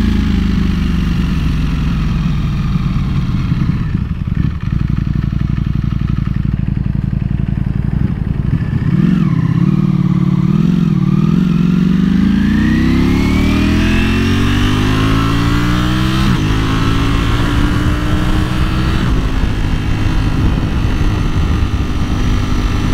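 Ducati Panigale V4S motorcycle engine droning loud and close while making a U-turn, with rising and falling revs as it swings around and accelerates, set against steady wind rush.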